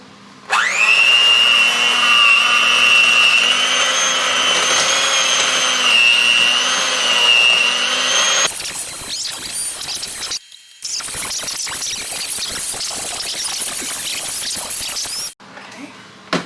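Electric hand mixer beaters cream softened butter for homemade Reese's bars, giving a loud, steady high motor whine for about eight seconds. The whine then turns into a rougher, uneven rattling drone and cuts off near the end.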